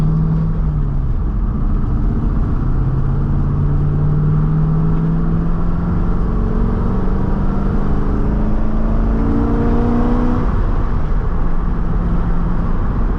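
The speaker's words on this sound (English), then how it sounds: "You can just tell this motor's got some torque." A Corvette C5 Z06 with a rebuilt engine drives and accelerates. Its steady, loud engine drone rises in pitch through several pulls, and no one talks over it.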